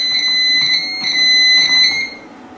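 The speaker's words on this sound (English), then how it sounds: "If your alarm activates, type in your 4-digit code." A loud, shrill electronic alarm from a Pyronix Euro 46 burglar alarm system blares continuously, pulsing slightly in intensity, with no voices.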